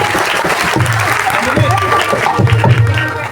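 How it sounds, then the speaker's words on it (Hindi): An audience at a Bhagwat katha gathering claps for Sukhdev ji, a loud, dense burst of applause that swells and continues throughout, with a voice speaking over it. "जोर से ताली बजा है सुखदेव जी के लिए"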